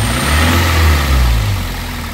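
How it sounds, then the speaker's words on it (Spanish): A car engine with a cylinder misfire revs up briefly and settles again, a loud, steady, low mechanical drone heard alone at close range. "Voy a darle otro acelerón"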